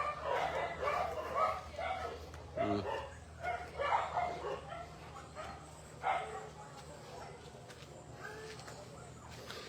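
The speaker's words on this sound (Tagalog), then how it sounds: "Ito naman yung mga foster puppies ko." Foster puppies yip and bark in scattered bursts at close range, with outdoor background noise and no clear speech.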